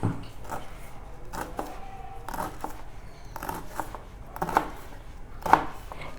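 Rolled taro (arvi) leaves are finely chopped with a knife, giving close, irregular chopping thuds, about eight or nine strokes with short pauses and a sharper knock near the end.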